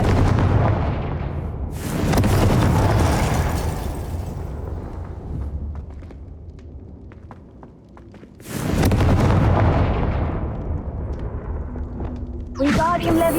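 Repeated Confringo blasting spell explosions in the video game Hogwarts Legacy, two heavy loud bursts a few seconds apart with rumbling tails, amid game effects and a brief magical shimmer at the end.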